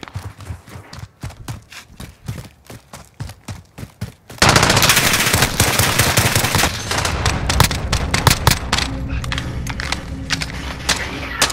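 Video game gunfire: sparse single shots and short bursts, then a dense, loud stretch of rapid automatic fire with scattered shots continuing to the end.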